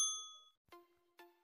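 Three bright notification bell dings, one clear chime followed by two more after a short pause, each ringing and decaying alone in silence.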